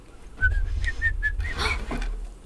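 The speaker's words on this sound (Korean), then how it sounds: "I learned how to whistle." A character in The Last of Us whistles a short run of clear, rising and falling notes, about six quick chirps in a row, close and fairly loud over a low background rumble.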